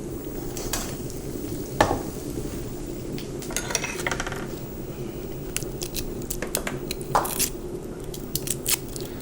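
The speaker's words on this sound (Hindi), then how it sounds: "ये ज़ीरा डाल दिया। अब इसमें क्रश्ड गार्लिक डाल दूँगी" Cumin and crushed garlic fry in hot oil with a steady sizzle, with occasional scrapes and clinks of a spoon stirring in the pan.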